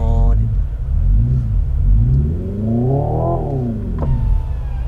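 A Hyundai Ioniq 5 N, parked in a stationary test, revs its simulated engine sound toward 7000 rpm, a loud rising and falling synthetic engine drone heard from inside the car, with people talking over it.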